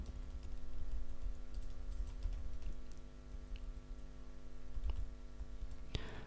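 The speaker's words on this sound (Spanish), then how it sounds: "Vamos a ingresar un texto cualquiera." Soft, irregular keystrokes on a computer keyboard as text is entered into a spreadsheet cell, heard close and quiet over a low background hum with no talk.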